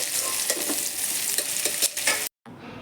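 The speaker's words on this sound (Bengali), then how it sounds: "এখন পেঁয়াজটা ভাজা হয়ে আসছে, তো এখন আমি ভেজে রাখা আলুটা দিয়ে নেড়ে চেড়ে কষিয়ে নেব।" Onions fry in a pan with cinnamon and cardamom, sizzling steadily while a spatula stirs and scrapes in repeated strokes, before the sound cuts out abruptly near the end.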